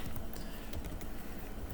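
A burst of fast keystrokes on a computer keyboard as a prompt gets typed, steady close clicking with a few louder taps, faint and without any voices.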